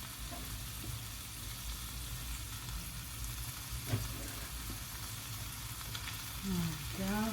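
Rice fried and stirred in a pan for spicy chicken and vegetable fried rice, a steady close sizzle with soft scraping, no talk.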